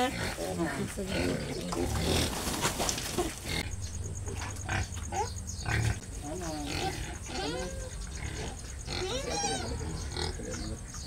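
A native piglet squeals in shrill, repeated bursts, close by, while several people talk over and around the cries.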